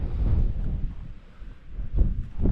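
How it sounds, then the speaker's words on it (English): Strong wind gusts rush across water and buffet a Hilleberg Unna tent pitched in winter in Snowdonia, a loud, continuous low roar that swells in bursts, with no one speaking. "getting some pretty big gusts actually"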